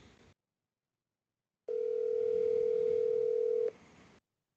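A telephone ringing tone plays over a speakerphone, a single steady tone held for about two seconds after a brief silence, loud and clear with no talk over it.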